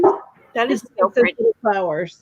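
A dog indoors barks and yips in short bursts that mix in with someone talking nearby.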